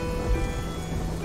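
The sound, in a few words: rain in video game Black Mirror II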